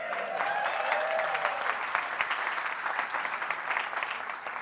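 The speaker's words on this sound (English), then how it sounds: "Round of applause for that lady." A room full of people at a business success summit clapping steadily and loudly, sustained applause with a few scattered cheers mixed in, no talking.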